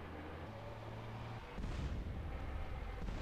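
A gunshot fired at a train in GTA San Andreas, a faint booming report that bursts out after a low steady hum and decays into rumbling noise.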